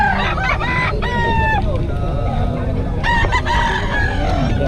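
Roosters crow repeatedly at a busy gamefowl market in Bocaue, several loud overlapping crows from nearby birds over constant crowd murmur and clucking.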